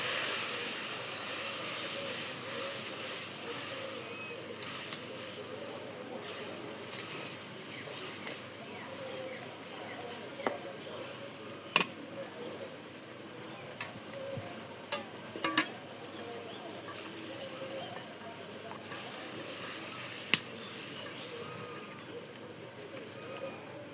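Ginger, cumin, onion and garlic paste sautéing in a pan in a village kitchen, a soft continuous sizzle with occasional scraping stirs and clinks, fairly quiet throughout.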